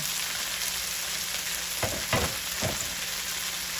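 Steady, loud sizzling of day-old cooked rice stir-frying in a pot, with a few brief scraping stirs partway through.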